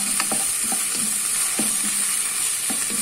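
A spoonful of tomato paste fries in a pan for mushroom pasta, a soft steady sizzle broken by scraping and clicking stirring strokes, close up with no talk.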